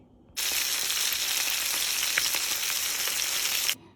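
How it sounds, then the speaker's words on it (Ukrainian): Salted and peppered milk hake dredged in flour hits a frying pan with an abrupt burst of loud, steady sizzling that crackles continuously and then cuts off, with no speech. "Зараз я його посолю, поперчу і йду жарить у муці."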